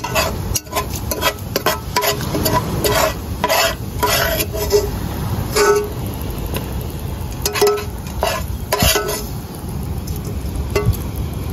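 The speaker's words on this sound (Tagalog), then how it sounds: "magigisa na tayo" Food stirred and sautéing in a pan at an outdoor seaside cooking spot, a steady sizzle with scraping and clinking of utensils against the pan throughout, fairly close and continuous.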